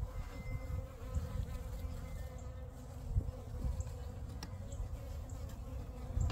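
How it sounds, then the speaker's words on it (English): A thick, steady buzz of many bees around a hive fills the air up close, a low droning swarm with small surges and no speech. "What are those bees doing on there?"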